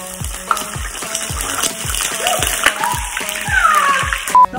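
Mashed plantain slices fry in hot oil for Haitian banane pesée, a loud, steady sizzle with bubbling and occasional spatters, close up and uninterrupted.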